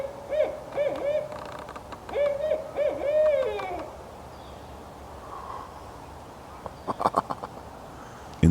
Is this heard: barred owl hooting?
yes